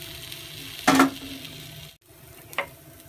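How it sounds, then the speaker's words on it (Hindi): Thin batter for leftover bread tava pakora cooking on a hot griddle, a continuous close sizzle with one loud burst of scraping, a brief drop to near silence, then a smaller clink. "अब ये पक जाता है इसको दोनों साइड से अच्छी तरह से कुक कर लें।"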